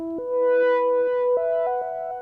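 Sustained oscillator tone from a U-He Civilization synth module, steady harmonic-rich pitches stepping between a few notes, with a light sequencer pattern pulsing underneath at moderate, even loudness.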